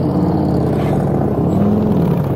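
A motorcycle engine revs as the throttle opens with the clutch slipped during a pre-loader riding course, a loud close drone whose pitch shifts and climbs.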